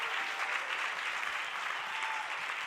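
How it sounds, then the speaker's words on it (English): Warm round of audience applause for Johnny Lee at the Asus Zennovation live event in 2017, dense even clapping sustained evenly throughout, fairly distant and without speech. "please give a real warm round of applause for Johnny Lee"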